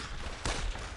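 A machine gun fires on a World War II battlefield in Brothers in Arms: Road to Hill 30, a dense, continuous rattle with a louder blast in the middle, packed into one second.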